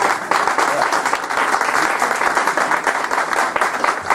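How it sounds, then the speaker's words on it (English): A round of applause from an audience at a tribute to a tennis coach, dense steady clapping filling the room at even loudness throughout. "Give him a round of applause"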